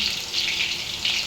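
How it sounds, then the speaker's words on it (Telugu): Cut green chilli pieces sizzle in hot oil in a kadai, a soft steady hiss of frying that runs briefly and evenly. "మనం ముందుగా కట్ చేసి పెట్టుకున్న పచ్చిమిర్చి ముక్కలు ఆయిల్లో వేసుకోవాలి"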